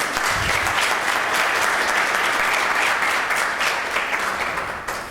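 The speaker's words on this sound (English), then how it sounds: "let's give ourselves a round of applause" Conference audience at a health user conference breaking into sustained applause, dense and even clapping from a large crowd close by, fading slightly at the end, with no speech over it.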